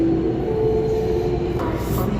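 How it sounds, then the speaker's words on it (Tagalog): A Vancouver Metro train rolls along with a steady loud rumble and a sustained hum, with no talk heard over the constant rolling noise. "Dito na tayo sa tren."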